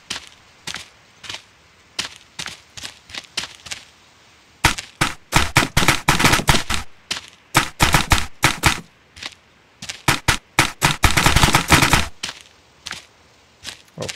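Paintball guns fire at wooden targets in the Greg Hastings Paintball 2 video game: sparse single pops at first, then loud rapid bursts of shots in clusters, with sharp impacts and short pauses between volleys.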